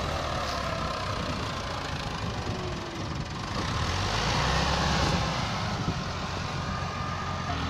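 Massey Ferguson tractors, an MF375 and an MF260 turbo, rumble at idle while hitched to a heavily loaded sugarcane trolley, a steady dense diesel drone with slight swelling midway, continuous and fairly close.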